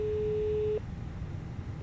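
Cabin intercom ringing in the Self-Loading Cargo flight simulator add-on: a steady electronic tone that holds for under a second and then stops, with a faint start of another ring at the end, over a low background rumble.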